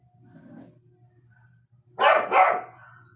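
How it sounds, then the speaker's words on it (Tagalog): A dog in a neighbouring house barks twice in quick succession, muffled and somewhat distant, after a few seconds of near silence with faint low hum. "may tumatahol na aso sa kabilang bahay"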